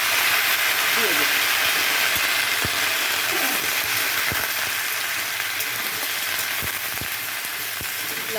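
Bottle gourd pieces frying with cumin seeds in a pan give a steady, loud broadband sizzle that runs without a break, with occasional soft clicks from stirring. Faint talk sits low under the sizzle.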